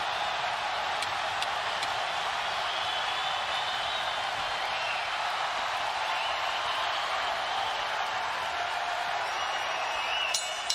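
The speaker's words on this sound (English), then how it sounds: "The crowd loves it." Spectators at the Pacquiao vs Brandon Rios boxing match roar in a steady, dense wall of cheering and applause, sustained and loud throughout with no pauses.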